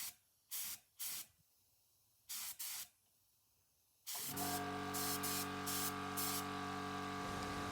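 Short hissing bursts of spray paint lay a light coat of colour on a mirror, coming as two pairs of quick puffs, then a louder steady hiss joined by a humming tone, with more brief bursts layered over it.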